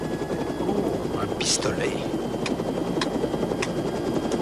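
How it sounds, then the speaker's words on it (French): A helicopter flying in the 1994 film The Puppet Masters gives a steady, loud, whooshing rotor drone through the whole stretch, while someone speaks briefly over it. "À présent, fais atterrir cet hélicoptère."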